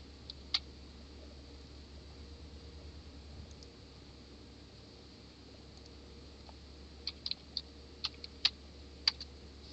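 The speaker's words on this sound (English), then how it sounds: "If I simply type a get-disk command" Computer keyboard being typed on while entering a command, a few faint scattered key clicks early and then a short burst of quicker taps near the end, all over a low steady hum.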